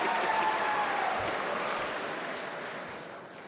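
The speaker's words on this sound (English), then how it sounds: "And they start clapping." An audience at a college event breaks into sustained applause, a dense wash of clapping from a crowd that slowly fades over a few seconds, with no talking.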